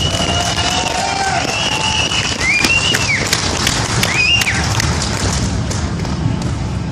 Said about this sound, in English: Give yourself one more round of applause.